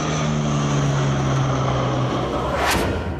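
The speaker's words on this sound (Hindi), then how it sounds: "लड़ाकू विमानों और हेलीकॉप्टर की ये गर्जना शुक्रवार को पूर्वांचल एक्सप्रेसवे पर दिखाई दी" Indian Air Force fighter jets and an MI-17 helicopter roar low over the Purvanchal Expressway airstrip, a loud continuous aircraft engine drone filling the whole stretch with a rising pass near the end.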